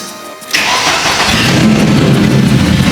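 A supercharged Porsche 924 with its exhaust fallen off fires up after a brief quiet moment and settles into a loud, raw, steady running roar at close range.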